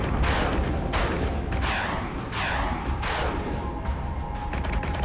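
Repeated heavy artillery blasts from space battle fleets in Battlestar Galactica Deadlock, roughly one booming volley per second over a constant dense rumble, loud and unbroken.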